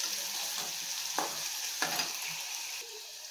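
Onions fry softly in a pan while being stirred, giving a steady low sizzle with a few scraping strokes of the spoon, quiet and without talk.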